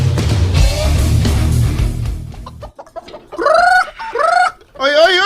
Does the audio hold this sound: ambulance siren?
no